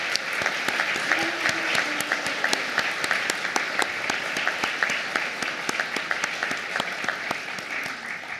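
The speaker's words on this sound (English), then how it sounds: "give another round of applause to Patrick Netteshine for the great music he" Audience in a lecture hall at a memorial lecture applauding steadily, a dense, even patter of many hands clapping that carries on at moderate loudness for several seconds, with no talk over it.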